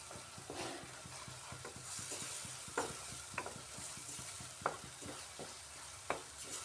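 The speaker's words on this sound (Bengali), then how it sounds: "কষাতে কষাতে দেখবেন মশলা থেকে তেল ছেড়ে আসছে" Spice masala stir-fried in oil for a vegetarian pointed gourd and paneer dish gives a soft, continuous sizzle, with a spatula scraping and tapping the pan every second or so, close but fairly quiet.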